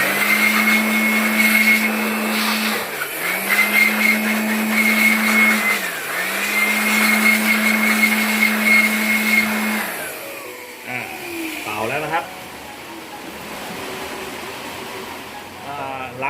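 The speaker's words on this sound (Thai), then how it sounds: "ส่วนนี้เราก็ใช้ เบอร์เป่าเลยนะครับ เป่าให้แห้งครับ" Air blower drying the circuit board of a Panasonic air conditioner during cleaning, a loud steady whine that cycles in a few pulses for about ten seconds, then cuts off to quieter handling noise.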